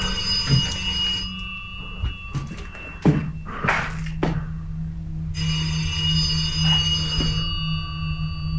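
A telephone rings inside the horror video game Red Eye Joe, two long stretches of bright, buzzing ringing separated by a few seconds of quiet broken by dull thumps, with a low steady hum underneath throughout.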